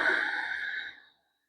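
A single soft exhale through the nose during yoga breathing, close and breathy, fading out over about a second into silence.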